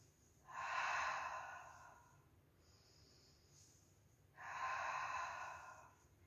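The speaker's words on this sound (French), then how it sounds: "On va alterner la respiration sur chaque jambe." During a Pilates exercise, two long, audible breaths are taken a few seconds apart, each a drawn-out airy rush heard close and alone, with a quiet pause between them.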